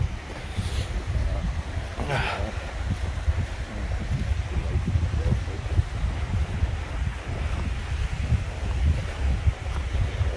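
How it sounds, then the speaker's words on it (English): Strong wind buffets the microphone outdoors on a ski trip near Keswick, a constant, loud rumbling roar with gusts, plus a few faint sharp knocks. "that wind's gonna be here the whole day, man"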